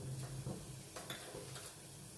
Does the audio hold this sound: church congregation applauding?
no